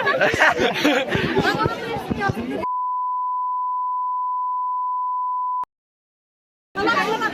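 A steady censor bleep tone cuts over casual speech for about three seconds, with chatter and laughter before it, silence after, then talk resumes.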